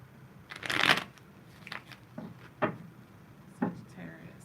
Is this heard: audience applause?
no